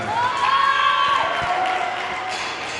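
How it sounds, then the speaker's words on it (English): Competitors, coaches and staff at a barbell weightlifting meet cheer and whoop together, a loud burst of mixed shouting and cries from a small crowd that holds steady and then eases off slightly. "it's a lot of cheering from fellow competitors and coaches and staff"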